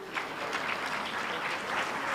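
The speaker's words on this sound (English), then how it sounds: "Let's applaud the panelists." Audience applause for a panel of speakers at a county investment forum, a soft, even wash of many hands clapping heard from a distance, steady throughout.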